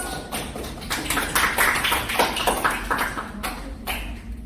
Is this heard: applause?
yes